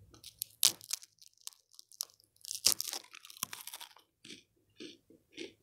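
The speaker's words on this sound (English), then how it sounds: "I'm eating some crackers, if anyone would like to know." Crunchy crackers bitten and chewed close to the microphone, with sharp loud crunches followed by quieter, softer chewing in a quiet room.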